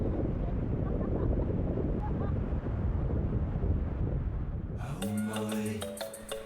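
Ocean waves along a Madagascar coast wash in as a broad, rushing roar mixed with wind buffeting the microphone, steady for several seconds before music takes over and the surf fades.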